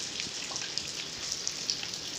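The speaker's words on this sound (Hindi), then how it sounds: "बारिश तो पूरा खतरनाक वाला हो रहा है" Steady rainfall during the rainy season, a soft constant patter with scattered droplet ticks on nearby surfaces, moderately quiet and without talk.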